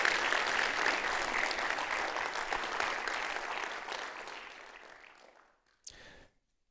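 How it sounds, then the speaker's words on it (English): At a university lecture in Otago, an audience gives a warm round of applause that starts full and dense, gradually thins and fades, then ends with a brief final burst of claps before silence. "Just please give Gabby Hallows a big round of applause."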